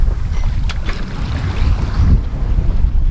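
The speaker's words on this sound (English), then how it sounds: "this wind is pretty inconsistent" Strong wind at sea buffets a sailboat, a loud, constant low rumble of gusts across the microphone mixed with the wash of water, with no voices.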